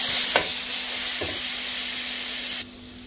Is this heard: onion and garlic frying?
yes